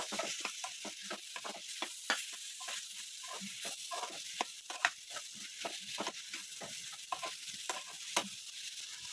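A spoon stirs prawn gravy with turmeric and chilli powder in a sizzling pan, giving rapid, rhythmic scraping strokes over a steady frying hiss, close by with no talking.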